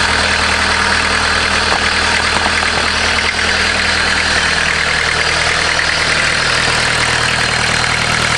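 A Volkswagen diesel engine, fitted with a new timing belt and installed in a caravan, idles close by. It gives a loud, steady rumble with a constant clattering drone throughout, and nobody speaks over it.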